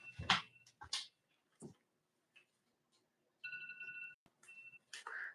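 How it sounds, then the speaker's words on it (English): A phone beeps in short, bright electronic tones, a sustained two-tone burst and a brief repeat, in between sparse knocks and rustles in a quiet room. "I hear a phone beeping."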